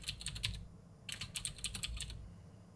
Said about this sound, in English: type in YouTube thumbnail